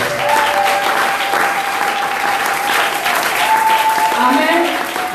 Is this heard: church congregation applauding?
yes